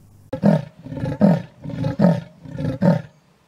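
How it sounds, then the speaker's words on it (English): A leopard calling in the African bush not far off, giving a sawing series of about five deep, rasping grunts in a steady rhythm, loud and close, with no other voices. "Now this call belongs to a leopard"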